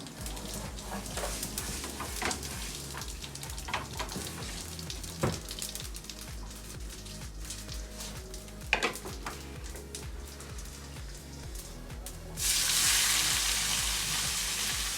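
Cumin seeds sizzle and crackle in hot oil in a home kitchen pan, with scattered sharp pops and a stir or clink of utensils, ending in a louder surge of frying hiss.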